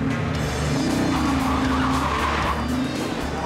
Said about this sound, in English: Oh, look at that four-wheel drive. He's off the line.